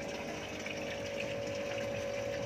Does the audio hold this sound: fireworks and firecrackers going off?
no